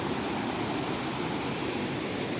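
A hidden waterfall pours in a steady, dense roar of falling water, broadband and unbroken, close and moderately loud with no voices.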